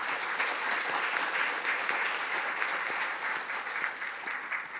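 An audience at the 2019 Jeju Forum applauds steadily from start to finish, a dense, even wash of many hands clapping in a large hall.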